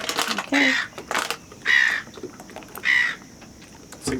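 Seagulls call in repeated harsh squawks, about five bursts spaced across the moment, nearby and fairly loud, with a voice speaking faintly underneath.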